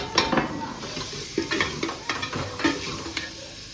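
Pumpkin curry with milk cooks in a pan, giving a steady sizzle and frying hiss broken by repeated scraping stirs of a spoon against the pan, close and fairly loud, with no voices.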